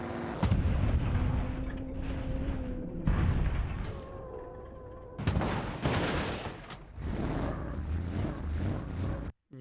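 Cannon fire in BeamNG with the HavocNG mod: heavy, booming blasts that sound one after another against vehicle engine hum, several loud bursts spaced a second or two apart and close up.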